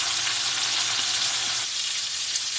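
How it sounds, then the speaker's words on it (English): Butter and a little olive oil fry in a skillet, giving a loud, steady, close sizzle that runs unbroken throughout with no voices over it. "that's butter and a little olive oil. Butter and olive oil. In the skillet."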